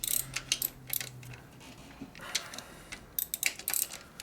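A torque wrench clicks repeatedly while tightening bolts on a rebuilt 1970s Ford 400ci engine for a 1958 Ford F100, sharp close metallic clicks in irregular bursts over a quiet workshop background.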